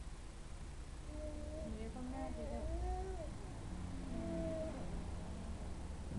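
A hungry cat meows while waiting to be fed, giving several faint, drawn-out, wavering cries over a steady background hiss, with possible soft voices nearby.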